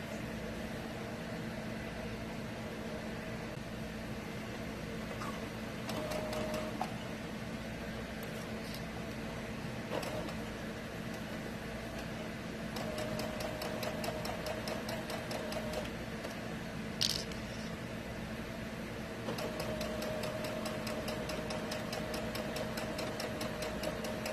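A sewing machine stitches fabric for a child's apron in several separate runs of rapid, rhythmic clicking over a low background hum. The sound is fairly quiet and there is no talk.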